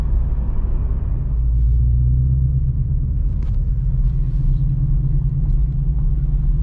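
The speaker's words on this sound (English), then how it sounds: "Try to hold the camera and get the sounds when I take off." A Ford Mustang Coyote V8 from 2015 rumbles with a deep, loud engine drone heard from inside the car, holding steady and swelling slightly as it pulls away.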